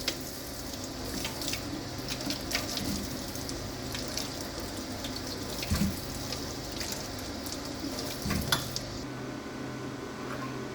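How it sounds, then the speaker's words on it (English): Tomatoes rinsed under a running kitchen tap, a steady close wash of water with light clinks of dishes and utensils throughout, alone without talk. "I've just got all of these tomatoes right now. I'm just going to wash them."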